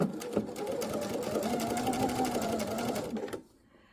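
A sewing machine stitches steadily across a faux welt pocket on trousers, running close and continuous for about three seconds before stopping abruptly into near silence.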